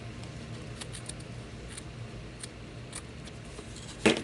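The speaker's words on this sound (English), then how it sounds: "I might need to trim it just a hair more right here." Scissors trimming fabric for a no-sew Christmas tag, a few soft quiet snips over a faint background hiss, with a louder rustle near the end.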